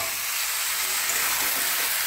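Salted banana stem is added to a pan where potatoes, pumpkin and tomatoes are already frying. A loud, continuous sizzle with a bubbling hiss fills the short stretch without pause.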